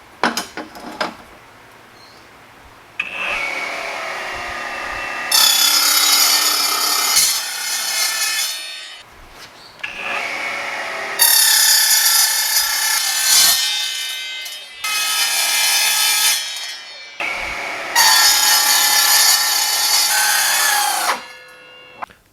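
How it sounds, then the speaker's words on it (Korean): A T-shop metal cutting saw slicing through stock: three long, loud grinding passes with a shrill, high whine, each starting and stopping abruptly with quieter motor hum between cuts, no speech. "이제 저 금속 절단기 T차 거 저걸로 한번 또 잘라 보겠습니다."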